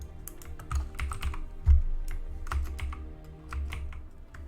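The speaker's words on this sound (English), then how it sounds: "Probably typing some silly stuff." Rapid, irregular clatter of keys on a computer keyboard with a broken shift key, set at a fighting-game netplay tournament, going on for several seconds with a low background hum and no talking.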